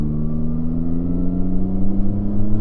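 A 2025 Yamaha Tracer 9 GT's CP3 three-cylinder engine pulling under acceleration, a loud, close, steady drone whose pitch climbs slowly over a few seconds with no voices.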